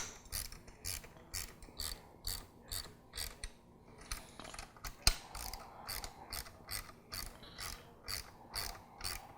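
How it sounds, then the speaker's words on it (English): Socket wrench ratcheting as it tightens carriage bolts and lock nuts while a beam cutter is fitted to a Milwaukee 2830 circular saw, a quiet, steady series of rhythmic clicking strokes up close. "We're going to tighten these 2 carriage bolts and lock nuts."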